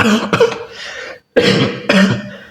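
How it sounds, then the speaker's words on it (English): Three harsh, close coughs in quick bursts, separated by a brief silence, loud and dry with no talking. "so sorry about the coughing"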